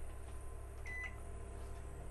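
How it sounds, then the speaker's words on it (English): A microwave oven running off grid on lithium battery and solar power in a Lotus Trooper caravan gives a faint, steady low hum, with a short thin tone near the middle. "Now we'll whack the microwave on as well."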